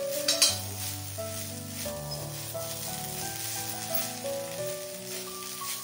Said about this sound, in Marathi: परत एकदा मिक्स करायचं